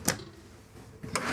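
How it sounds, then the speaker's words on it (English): A storage drawer in a motorhome kitchen opened and then shut, two soft, brief clunks about a second apart, quiet and close with no talking. "but another drawer."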